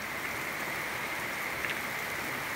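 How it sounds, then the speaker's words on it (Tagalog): Heavy rain falling steadily ahead of an approaching typhoon, a dense even hiss that stays constant and loud throughout with no voices. "hintayin po natin tumila ng konti ang ulan"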